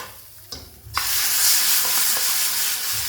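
Whole spices hit hot oil for a tempering poured over turnip and spinach gravy, a soft clink followed by a sudden loud, sustained hissing sizzle that stays close and steady with faint stirring underneath.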